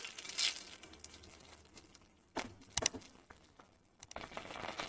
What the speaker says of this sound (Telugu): ఆయిల్ కాగిందండి. ఒక 1 స్పూన్ ఆవాలు